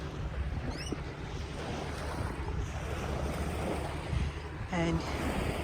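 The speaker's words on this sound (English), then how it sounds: "You hear the sound of the water lapping against the shore." Soft water lapping and washing steadily against the shore at Little Beach, Nelson Bay, Australia, with wind rumble and a few faint bird chirps in the background.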